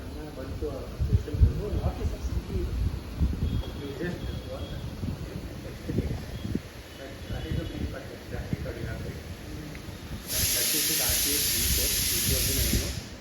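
A pressure cooker on a gas stove lets out a loud, steady hissing steam whistle that starts abruptly near the end and holds, following a stretch of close conversation and kitchen noise.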